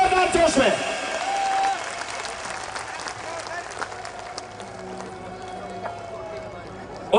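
Large outdoor gathering applauding and clapping together, a dense, steady wash of hands that stays strong throughout, loudest at the start, with a voice speaking faintly over the crowd.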